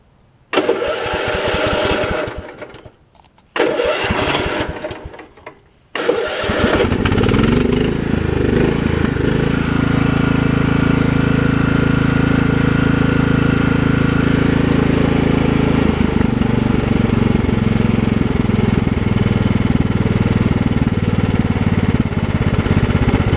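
A Kohler Command engine on a Craftsman riding mower, after a fuel system cleanout and carburetor clean, first sputters in uneven bursts and cuts out, then settles into a steady, loud, close running drone.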